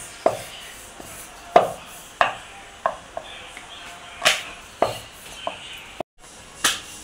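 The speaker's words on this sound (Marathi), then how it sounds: "अशा प्रकारे आपण चपातीसारखी पातळ चपाती लाटून घेतल्यासारखं घ्यायचं आहे" Rolling pin working masvadi dough thin on a board, giving about ten separate knocking thuds spaced roughly every half second to a second, close and fairly loud with quiet gaps between.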